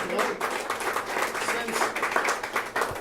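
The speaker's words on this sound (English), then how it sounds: "You can clap it. Come on." An audience claps in a steady burst of applause, crowd noise sustained throughout with a voice heard faintly beneath.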